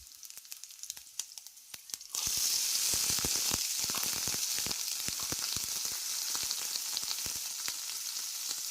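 Chopped radish dropped into hot oil with dried red chillies, a sudden loud burst of sizzling after a quieter start, then steady crackling frying with sharp spits, no talk.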